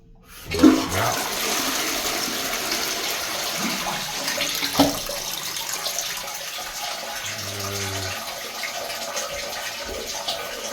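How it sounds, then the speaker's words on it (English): An Ideal Standard toilet, just repaired after a leak, flushes with a sharp surge of rushing water that settles into a steady refill flow with a few clunks, loud and close with no talking. "So we're just gonna flush it out."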